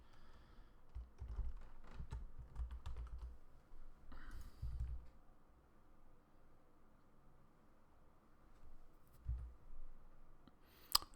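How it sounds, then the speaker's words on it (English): Typing on a computer keyboard comes as bursts of quick, close clicks and taps, with pauses between the clusters and a sharper click near the end. "Ooh, keyboard."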